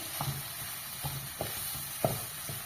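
Masala frying in a pan sizzles softly while soya chunks are added and stirred, with a few light, evenly spaced scraping knocks against the pan; quiet and close, with no talking.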